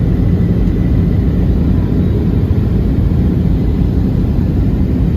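Constant loud low roar of jet engines inside an airplane cabin, a steady droning rumble with no breaks.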